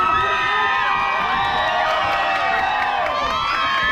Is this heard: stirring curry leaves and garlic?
no